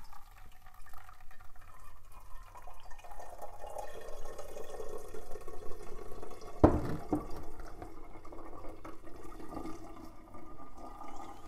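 Almond milk straining through a nut milk bag makes a quiet, wet trickle and drip with soft handling sounds, broken midway by a single sharp knock.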